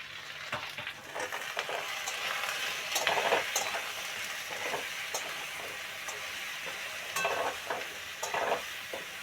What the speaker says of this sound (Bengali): এবার আমি পটলটা সিম করে করে ভাজবো তাই জন্য ঢাকা দিয়ে দিলাম